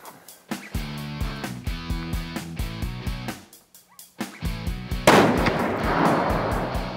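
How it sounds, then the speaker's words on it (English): A McMillan Tac-50 rifle fires .50 BMG rounds at a melon target outdoors, giving heavy booming reports with a rhythmic pulsing pattern and a louder, broader blast near the end. "Nice shot."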